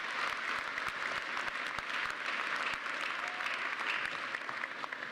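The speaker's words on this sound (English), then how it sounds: "Clap, clap, clap." Graduation crowd at a Parkland College commencement applauding, a continuous wash of many hands clapping, fairly distant and even throughout.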